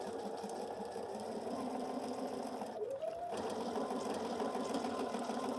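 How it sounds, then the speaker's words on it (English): Sewing machine stitching a quarter-inch seam on fabric hums steadily at close range the whole time, pausing only for a brief dip near the middle. "I'm going to take this to the machine and sew 1/4 inch here to here"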